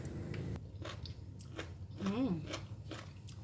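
Close crunchy bites and chewing of cooked Chinese broccoli in oyster sauce, with a brief hum of a voice partway through.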